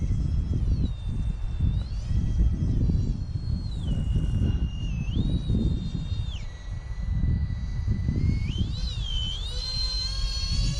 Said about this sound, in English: So I'm bringing about for a slow pass into the wind.